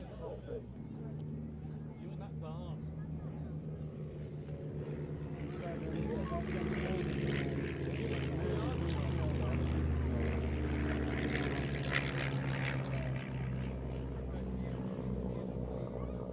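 A Miles Magister propeller trainer flies at an air show, its engine drone rising from moderate to louder and then holding steady, while a commentator talks over it.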